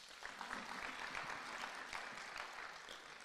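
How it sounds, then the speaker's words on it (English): A crowd at a youth entrepreneurship expo gives a round of applause for a studio team, steady mixed clapping heard fairly faint and distant throughout. "let's give them a hand of applause"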